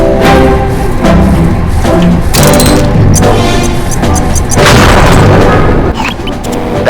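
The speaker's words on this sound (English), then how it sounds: "try dropping a bomb on that crate over there" A bomb blows up a crate in the video game Sly 3, giving a loud booming blast with crashing debris and a thudding aftermath that rumbles for several seconds, with no talk over it.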